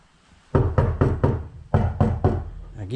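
Firm knocks on the hard, hollow, uninsulated sheet-metal body of a Suzuki Samurai: a quick burst of four raps, a short pause, then three more.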